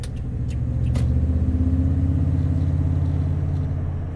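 A Toyota Tundra pickup's engine idles in a low, steady, even rumble with no high-pitched whistle from the air intake, close and continuous.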